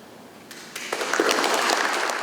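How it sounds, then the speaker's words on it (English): Applause at a Catholic seminary installation of a Brooklyn auxiliary bishop, beginning with a few scattered claps and swelling quickly into full, dense clapping that holds loud to the end. "With a congratulatory hug and a round of applause"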